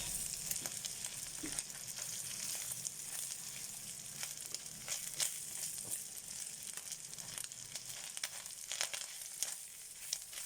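Bacon sizzles and crackles steadily in a hot frying pan, a dense continuous spatter with occasional sharper pops, close and fairly quiet, with no talking.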